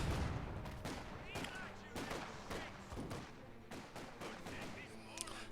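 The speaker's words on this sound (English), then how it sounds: "You've got the 3-inch mortar replacement just smashing DevM's forces whenever they push into the centre" Mortar blasts and rifle and machine-gun fire rattle through a Company of Heroes-style real-time strategy match between Wehrmacht and British forces, with dense repeated shots and booms under commentators' talk.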